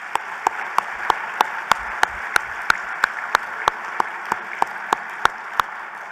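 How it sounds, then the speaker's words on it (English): An audience at a city's State of the City address applauds, a steady roar of clapping with sharp, evenly spaced claps cutting through in a quick regular rhythm. "Let's give them a big round of applause."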